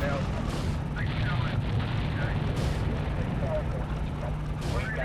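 A tank fires in the top-down GTA 2 video game, with dense, continuous rumbling gunfire and explosions booming steadily throughout.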